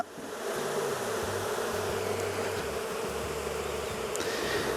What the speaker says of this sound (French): Vu le comportement des abeilles, le rappel, vu comme ça chante